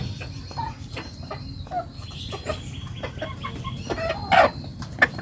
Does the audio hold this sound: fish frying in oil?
no